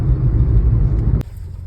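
Road traffic of cars and motor vehicles, a loud close engine and tire rumble that cuts off abruptly, leaving a quieter hum.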